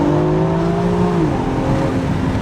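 A BMW X4 M Competition accelerates in second gear, its engine and turbos rising into a loud, close, steady drone with a smooth pitch shift partway through, heard from inside the cabin.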